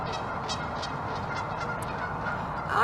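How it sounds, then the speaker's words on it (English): Several birds call in short repeated bursts through a steady background hum, with a louder honking cry near the end. "You'll excuse the birds, they're rejoicing."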